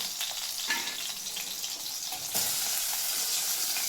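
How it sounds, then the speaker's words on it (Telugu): Green chillies frying in a pan give a steady, close, bright sizzle. It runs unbroken and grows louder and fuller about two-thirds of the way through. No one speaks over it. "పచ్చిమిర్చి ఇట్లా పండుకొని వేయించుకోవాలి"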